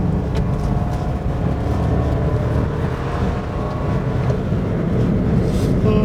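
Kia Morning small hatchback with automatic transmission driving, a steady low engine and road rumble heard from inside the cabin, continuous and fairly loud with little change in pitch.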